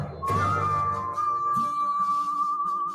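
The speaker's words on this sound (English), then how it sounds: "That's me whistling" A man whistles a single sustained, slightly wavering note that holds steady for a few seconds after a brief rise, clear and close, alone over faint background clatter.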